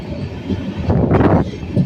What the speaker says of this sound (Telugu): ట్రైన్ అయితే స్లో అవుతుంది.